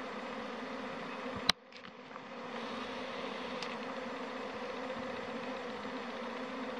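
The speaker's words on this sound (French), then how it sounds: "Il y a un essaim qui sort." A honey bee swarm pours out of a hive on a sunny day, a steady dense buzzing hum from many bees close by, broken once by a sharp click and brief dip before the drone resumes.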